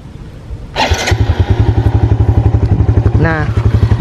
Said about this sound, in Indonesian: Kemudian kita ke bunyi mesin.